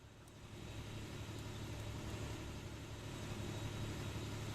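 A bus engine in the railway-building video game Transport Fever 2 drones steadily, a low, even rumble that swells slightly and holds without talk.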